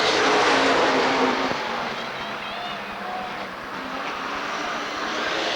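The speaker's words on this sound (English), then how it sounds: "Green flag, and we're racing." Race cars roar off at the green flag at Rockford Speedway in 1994, a dense, steady wall of engine noise that fades slightly midway then builds again, with a commentator talking over it.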